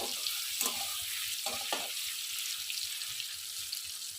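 Paneer cubes fry gently in a pan, giving a soft, steady sizzle with a few brief clinks or stirring knocks near the start.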